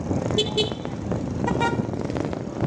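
Short car horn toots, two brief blasts about a second apart, sound over steady road and traffic noise, with voices murmuring underneath.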